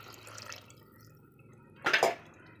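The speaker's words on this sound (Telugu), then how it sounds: "ఇప్పుడు కాస్తంత గ్రేవీ కోసం వాటర్ని యాడ్ చేస్తున్నాను" Water poured into a pan of radish and tomato curry to make gravy, a brief close splash of liquid after a quiet stretch of faint kitchen noise.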